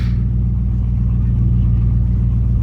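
A steady low Ford Mustang rumble drones on while driving, even and continuous with no pauses.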